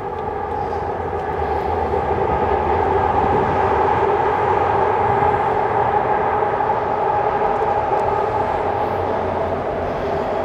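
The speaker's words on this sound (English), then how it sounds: "Just wait for this damn train." A train passes on a city street, a loud, sustained rumble with steady droning tones lasting the whole stretch, heard alone with no talk.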